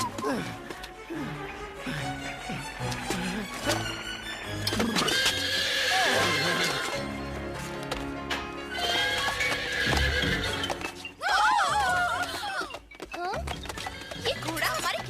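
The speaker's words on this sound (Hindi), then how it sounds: "ये घोड़ा हमारे किचन में क्या कर रहा है?" In a cartoon kitchen, a horse neighs and whinnies loudly several times, its hooves clattering between the calls, amid busy sound effects and talking voices.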